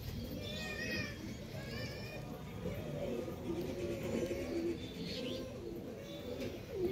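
Madras pigeons coo and chirp close by in a loft, with repeated soft calls and brighter twittering notes over a busy background.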